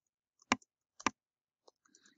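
Two crisp computer mouse clicks about half a second apart, close and loud in near silence, followed by faint small ticks and rustle.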